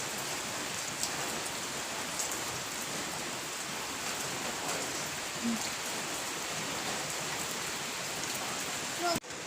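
Steady, heavy rain pours down in a continuous hiss, close and loud throughout, with a sharp knock near the end.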